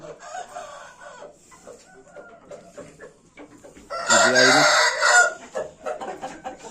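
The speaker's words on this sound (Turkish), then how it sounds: "O horoz nerede?" A rooster crows loudly once, a long harmonic call standing out over quieter background chatter and clucking.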